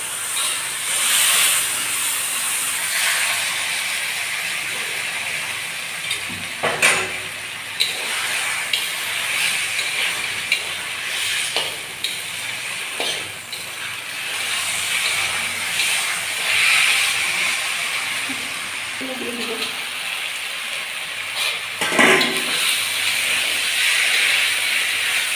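Water poured into fried spice masala in a pan gives off a continuous, loud hissing sizzle and steam, steady over a long stretch with occasional brief bursts and clatters.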